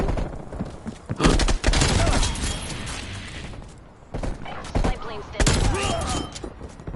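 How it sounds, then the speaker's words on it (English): Gunfire in the Call of Duty Black Ops video game: sharp loud bursts of shots in two clusters, with heavy broadband blasts and no voices over them. "someone's shooting at me"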